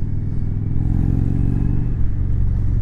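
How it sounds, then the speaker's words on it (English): A 2019 Indian Chieftain Bobber with Stage II cams revving at high RPM, a loud close engine drone with a dense pulsing rumble and slight rise and fall in pitch. "Bobber's just coming alive at those RPMs."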